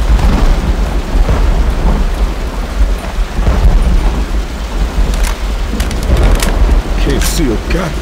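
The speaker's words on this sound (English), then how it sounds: "Storm! Stay close!" Thunderstorm with heavy rain in the game Left 4 Dead 2, a loud continuous roar of downpour with rumbling thunder throughout, while players call out over it.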